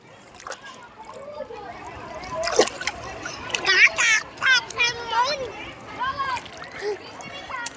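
A child splashes in a water park pool, with irregular sloshes and splatters close by, mixed with children's voices and adult talk over a busy poolside background.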